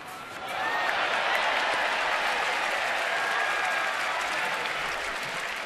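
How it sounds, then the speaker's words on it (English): Baseball stadium crowd applauding a fan's nice catch in the stands, a broad sustained roar of clapping and cheering that swells in after a quiet start and holds steady at a distance. "Fan gets the applause for a nice catch"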